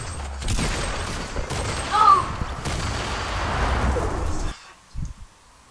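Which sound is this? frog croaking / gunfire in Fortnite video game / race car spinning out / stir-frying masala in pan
gunfire in Fortnite video game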